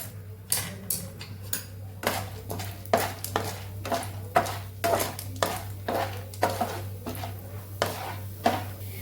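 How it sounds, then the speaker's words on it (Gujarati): Chana dal being sautéed in hot oil brings a quick, uneven run of metal spoon clinks and scrapes against the pan over a low, faint background hum. "તો અહીં આપણું તેલ ગરમ થઈ ગયું છે તો ચણાની દાળને આપણે સાતળી લેવાની છે"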